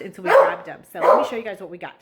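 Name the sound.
dog barking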